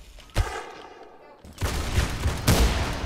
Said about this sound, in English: Shotgun, my favorite!